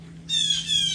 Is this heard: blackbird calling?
yes